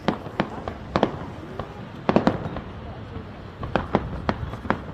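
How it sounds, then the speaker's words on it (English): Fireworks burst in sharp, scattered cracks and pops over a seaside display at Cromer, United Kingdom, several quick bangs in clusters, with people talking and crowd noise underneath. "These fireworks, I like fireworks."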